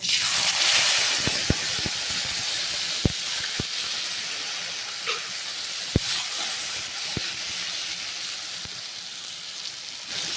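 Green chili and ginger paste sizzles in hot oil with cumin seeds, bay leaf and whole garam masala for a raw banana kofta curry, a steady close hiss broken by scattered sharp ticks and pops.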